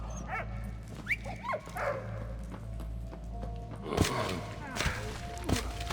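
A dog in the war video game Valiant Hearts whimpers with high yips and then gives several short barks, fairly close, over a low rumbling game ambience.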